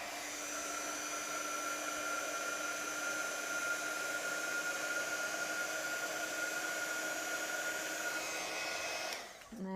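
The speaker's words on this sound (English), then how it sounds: "So just grab my heat tool." Heat tool warming embossing powder on a card stamp, a steady whirring blower hum with a faint high whine, constant throughout and switched off just before the end, with no talk.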